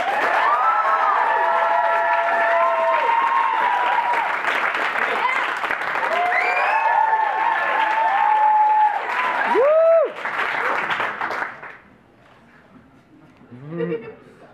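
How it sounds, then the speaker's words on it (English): A crowd bursts into sustained applause mixed with cheering and shouted voices, dense and loud for about ten seconds, then quickly fading out. "Can I get a round of applause for free will?"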